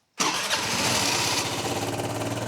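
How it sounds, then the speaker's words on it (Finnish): A cold Vespa scooter engine starts on the first try: a sharp burst after brief silence, then settles into a steady, close, rhythmic idle with no talking. "Ja sehän lähti ykkösellä käyntiin."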